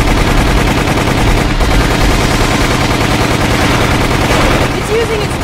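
Loud, dense automatic gunfire aimed at a tentacled Tyrant in Resident Evil, a continuous rapid rattle of shots filling the whole stretch with little pause.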